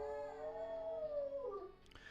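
A pet dog lets out one drawn-out howl that slides gradually downward in pitch. It sounds faint and somewhat distant and ends with a brief clatter.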